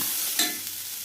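Cabbage thoran with green chilli and onion stir-frying as coconut paste goes in, giving a steady close sizzle with one brief louder stir near the middle, and no talking.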